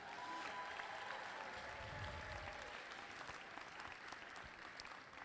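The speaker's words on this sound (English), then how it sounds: "So give yourselves a huge round of applause" A large audience at a state robotics championship breaks into sustained applause, dense steady clapping that fills the hall and holds at an even level throughout.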